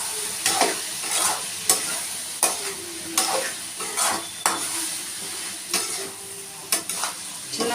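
Whole brinjals fry in a pan with a steady sizzle as they are stirred. Regular scraping strokes come about once a second, close and clear, with no one talking.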